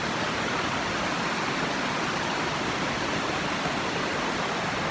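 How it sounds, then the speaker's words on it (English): Waterfall on the Walls of Jericho hike, a steady broadband roar of falling water that stays loud and unbroken throughout, close by, with no voices. "got this waterfall right here."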